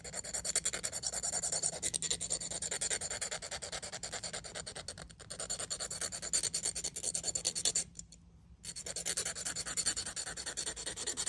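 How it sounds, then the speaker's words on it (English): A hand file rasps steadily back and forth across metal, scraping off a plastic or paint coating, close and continuous with one short pause near the end. "All I'm doing here is I'm just using my file."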